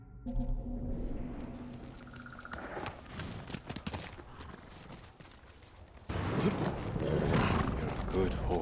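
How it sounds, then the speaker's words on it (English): A horse in the samurai video game Ghost of Tsushima whinnies near the start, followed by hoof clatter and rising game action noise. Speech is mixed in. "horse, Kage."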